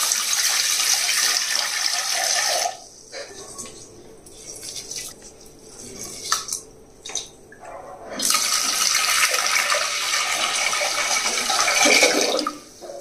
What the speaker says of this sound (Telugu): ఈ శుభ్రంగా 2 సార్లు కడిగేసి ఒక పావు గంట సేపు నానబెట్టాలన్నమాట.